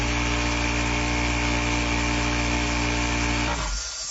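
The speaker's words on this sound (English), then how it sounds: "I believe that it's an air compressor." An air compressor runs steadily and loudly for most of the stretch, a constant motor drone with a strong hum, then cuts off near the end and leaves a quieter tail.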